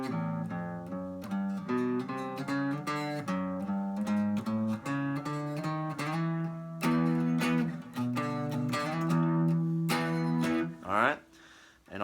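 A guitar plays the bass-line riff from a song, a steady run of clear, close plucked notes stepping through the pattern, with a brief strum near the end and no talking.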